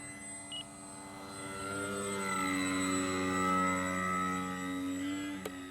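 An E-flite Maule M-7 RC airplane flies overhead, its electric motor whining in a steady, rising and falling drone that swells as it passes nearer, faint and alone.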